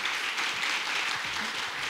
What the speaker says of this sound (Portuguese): Palmas, é.